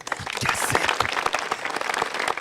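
Lively clapping at a casual gathering, a busy, uneven stream of sharp hand claps from several people nearby, steady across the stretch with a brief bright burst near the start.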